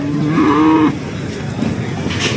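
At a cattle market fair beside a temple festival, a calf lets out a loud, close moo lasting about a second. Faint crowd murmur fills the background.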